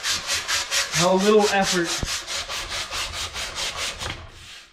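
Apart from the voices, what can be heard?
sanding wood to round it into a dowel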